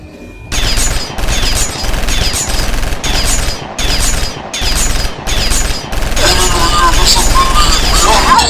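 Animated aircraft weapons open fire on a target, a series of loud, evenly spaced bursts of rapid shots separated by short gaps, ending in a sustained barrage with crashing, clinking debris.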